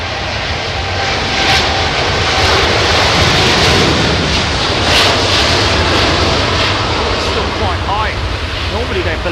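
Qatar Airways Airbus A380 airliner at a windy London Heathrow, its engines a loud, steady roar under heavy wind buffeting, with talk from people nearby.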